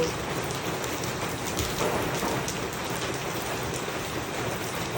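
Steady rain pours down under an overcast, cloudy sky, a dense continuous hiss of drops hitting surfaces, fairly loud and unbroken throughout with no voices.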